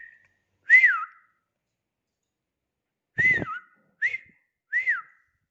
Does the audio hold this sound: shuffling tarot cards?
no